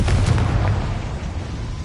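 A loud Confringo spell explosion in Hogwarts Legacy hits at once with a deep boom and a crackling burst, then a dense rumbling tail fades slowly. No voices are heard.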